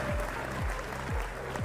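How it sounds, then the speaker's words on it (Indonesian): Audience applause for Pak Ali Mahsun at a podcast event on Bogor small businesses, a short steady patter of clapping heard with a repeated low tone underneath. "tepuk tangan dong buat Pak Ali Mahsun ya"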